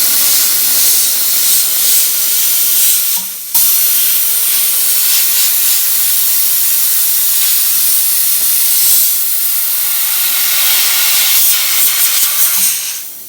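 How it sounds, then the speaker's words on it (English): A jewelry steam cleaner blasts a loud, close hiss of steam onto a chain, continuous and broadband, with one brief cutoff before it resumes and carries on. "I'm going to give it a little bit of a steam"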